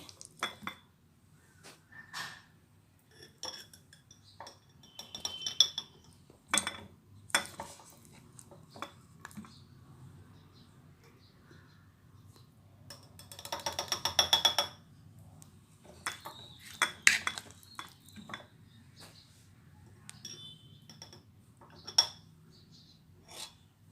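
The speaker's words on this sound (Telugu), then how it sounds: "పోపు నేను వేరే గిన్నెలోకి ట్రాన్స్ఫర్ చేసుకుంటాను నేనైతే ఈ జార్లోకి తీసుకుంటున్నాను" Chilli pickle made from ripe red chillies is scooped into a jar with metal utensils, giving scattered clinks, scrapes and rubbing taps at close range, with a few louder bursts of clatter and no talk.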